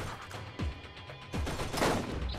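Turret gunfire in the video game Borderlands, several sharp bursts of shots over a dense, noisy game soundscape, moderately loud and fairly close.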